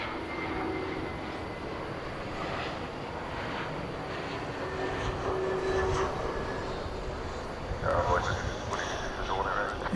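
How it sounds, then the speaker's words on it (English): An Airbus A321 on Flight 681 from Cancun arrives at DFW Airport at night, a sustained engine rumble swelling gradually and growing louder toward the end, with talk mixed in over the drone. "the arrival of Flight 681 from Cancun, an Airbus A321"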